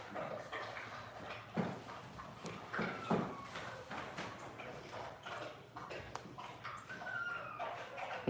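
Dog whining outside, faint and intermittent high whimpers amid scattered knocks and thumps, with no talking.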